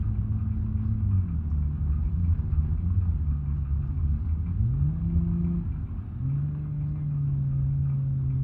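An overheating car engine in BeamNG.drive, held at full throttle on a Utah course, drones in a loud, strained low rumble with pitch rising and dipping as revs shift, steady and close throughout.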